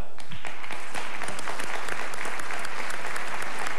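Audience at the Les Olivier 2000 comedy awards gala applauding the comedians' partners, a dense, steady burst of clapping from a large crowd with no voices over it.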